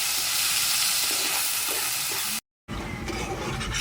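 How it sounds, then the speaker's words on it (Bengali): Ginger, tomato and green chilli paste sizzles steadily in hot oil for a soya chaap dish, a dense close hiss that cuts out briefly near the end before resuming. "বেটে রাখা আদা টমেটোর কাঁচা লঙ্কাটা দিয়ে দিচ্ছি ভালো করে ভেজে নেবে"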